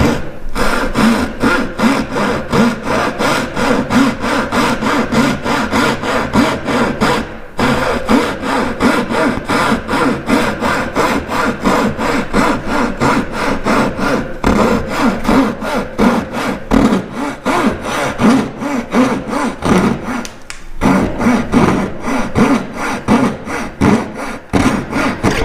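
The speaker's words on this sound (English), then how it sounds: "So back to cutting along my design edge now." A hand saw rasps through a wooden baseboard, cutting an inside corner with steady, close back-and-forth strokes that run on for a long stretch with only brief breaks.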